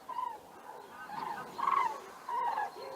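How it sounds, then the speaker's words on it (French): Common cranes at Lac du Der during spring migration give three or four loud trumpeting calls in open air, clear and alone with no voices. "la grue cendrée"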